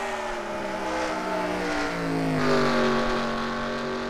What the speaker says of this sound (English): you can hear him rolling out of the throttle, down into the hairpin